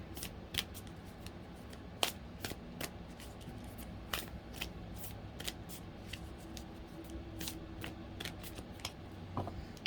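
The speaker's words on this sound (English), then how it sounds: "I haven't used these in a while. I want to give them a good shuffle." Lantern oracle cards being shuffled by hand, a series of sharp, quick riffling snaps spaced irregularly over a quiet background.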